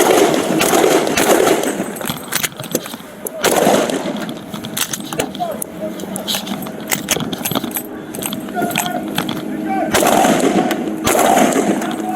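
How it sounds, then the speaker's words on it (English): Gunshots at a San Antonio police shooting, captured by a police dash camera: several sharp, loud bangs among jangling, clattering street noise, with voices heard at times. "Shots fired, shots fired, shots fired."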